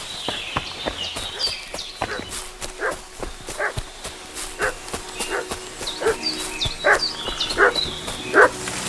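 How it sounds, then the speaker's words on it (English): A dog barks repeatedly in a medieval village in the video game Kingdom Come Deliverance, the sharp yaps recurring over a steady ambient bed, fairly close, with hoof-like clopping nearby. "What's that dog making such a fuss about?"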